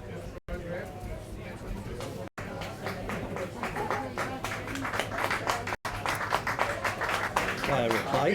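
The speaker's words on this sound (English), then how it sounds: "Player replaced, gets a round of applause for a good effort." Rugby crowd at a schools match applauding a replaced player, scattered clapping that builds gradually amid crowd chatter, with a commentator talking over it throughout.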